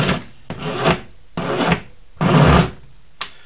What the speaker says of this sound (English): I'll grab my coarser file here, just filing it down